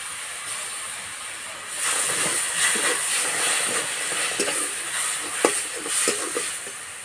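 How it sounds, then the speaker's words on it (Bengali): Grated tomato hitting a hot pan for crispy potato and wheat-flour snacks, a sudden loud hiss that keeps sizzling steadily, broken by small spatters and stirring scrapes. "এবার গ্রেট করা টমেটো দিয়ে দেবো।"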